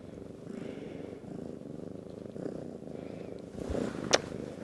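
A male cat purring steadily up close, a continuous low rumble with a brief louder sound near the end.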